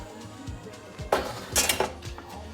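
A metal baking tray of egg-washed pastries comes out of the oven with a few sharp clanks and scrapes of metal, close by, between quieter moments of kitchen noise.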